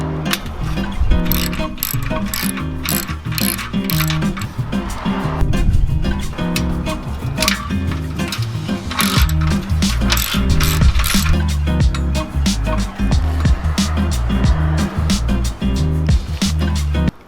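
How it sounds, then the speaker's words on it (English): A hand ratchet clicks rapidly and repeatedly while loosening the exhaust pipe bolts on a 2020 Harley-Davidson Low Rider S, as stock pipes come off for Vance & Hines slip-ons. Bursts of clicking are close and continuous, with occasional metallic clinks. "these bolts right here were not easy to take off with only this tool"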